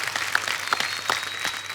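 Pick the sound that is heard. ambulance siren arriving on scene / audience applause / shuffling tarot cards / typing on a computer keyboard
audience applause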